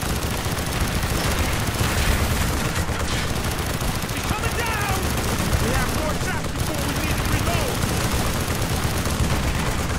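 Heavy, unbroken gunfire and explosions from a battle in Call of Duty: Black Ops on PC, loud and dense for the whole stretch, with voices mixed into the din.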